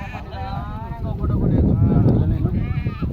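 Sheep bleat on a farm where a flock of 66 ewes and 22 lambs is kept, several calls rising over a steady rumble of wind and handling noise, with people talking throughout.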